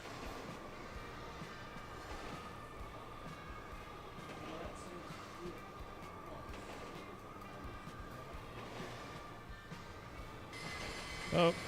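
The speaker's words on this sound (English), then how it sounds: "The runaway subway." A runaway subway train in a video game rumbles steadily and quietly, a continuous low rail drone with a faint sustained tone, ending in a brief louder clatter.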